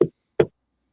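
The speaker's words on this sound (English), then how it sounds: "And she knocks." Two sharp, hollow knocks about half a second apart, heard clearly against dead silence on a recording from a paranormal investigation.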